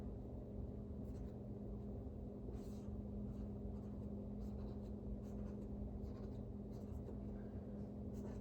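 Pen or marker drawing a structural diagram of a beam's triangular section during an engineering lesson, with faint, steady scratching strokes over a low room hum, no speech.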